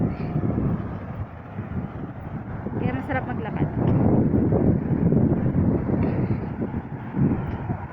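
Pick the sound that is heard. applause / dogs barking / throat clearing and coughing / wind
wind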